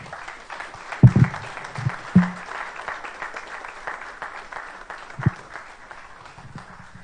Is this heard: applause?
yes